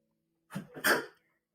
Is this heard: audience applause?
no